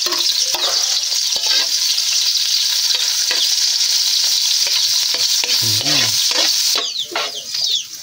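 Onion and garlic hitting hot oil for pancit canton, a loud close sizzle with spatula stirring scrapes throughout, easing slightly near the end.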